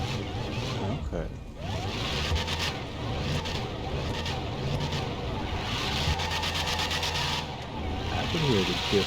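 Modded real-engine audio on the Hellfire car in GTA 5, a continuous engine drone with repeated rising and falling revs and gear-change sweeps, steady and fairly loud throughout, blended with other game effects.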